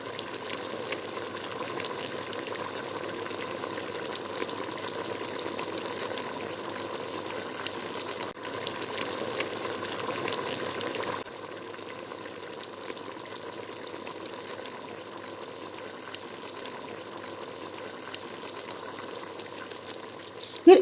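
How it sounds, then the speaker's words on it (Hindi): Chicken frying in oil for charsi karahi, a constant dense bubbling sizzle with a brief dip midway and a slightly quieter hiss for the rest. "अब थोड़ी देर हम इसे ऑयल में भूनेंगे।"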